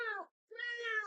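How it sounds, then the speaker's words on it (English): A cat meows hoarsely and croakily, two drawn-out rasping meows separated by a short pause, close and clear. "That is the croakiest cat I ever did hear."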